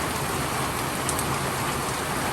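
Heavy rain pours down in buckets in the Great Smoky Mountains, a dense, loud, unbroken hiss of drops drumming on surfaces nearby, with no voices.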